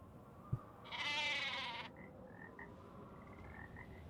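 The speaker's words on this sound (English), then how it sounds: "Hello, sheep." A sheep bleats once, a single wavering bleat heard in the Nancy Drew game The Haunting of Castle Malloy, faint against low ambient game sound, with a few soft chirps afterward.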